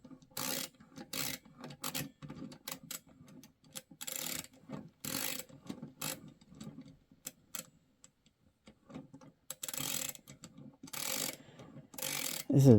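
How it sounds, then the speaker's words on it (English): A ratcheting wrench turns a loose nut until it begins tightening, giving bursts of quick close clicks in an irregular rhythm, with brief pauses between strokes. "Now I can start ratcheting. There it is. It's tightening up."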